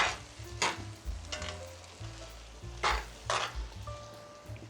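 Mushrooms sizzle steadily in a hot frying pan while a utensil stirs them in several close, intermittent scraping bursts.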